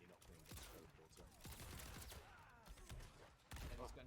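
Rapid bursts of video-game gunfire crack through a busy competitive match, layered with explosions from thrown bombs and a commentator talking over the action throughout.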